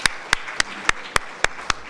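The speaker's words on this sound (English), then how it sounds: "Others, I requested to give a standing ovation and a clapping." Seven sharp, evenly spaced claps ring out over about two seconds, a sparse ovation at a college BBA alumni golden jubilee celebration, with no voices in between.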